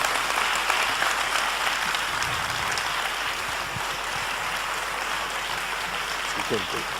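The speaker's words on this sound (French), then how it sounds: "Je voudrais qu'on applaudisse très chaleureusement Monsieur le Gouverneur." A conference audience applauds the Governor warmly, a continuous, fairly distant wash of clapping that holds steady throughout, with voices speaking over it.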